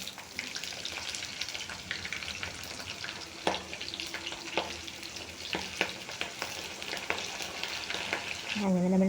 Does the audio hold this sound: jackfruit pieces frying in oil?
yes